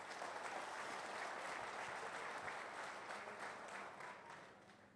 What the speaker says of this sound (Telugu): గట్టి చప్పట్లు కొట్టండి ఒకసారి ఆయనకి.